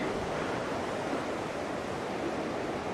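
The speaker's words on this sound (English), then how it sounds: "That wind's still howling through here pretty good." Wind roaring steadily on the Alaska Peninsula, a constant broadband rush with no breaks, loud and close, with no voices.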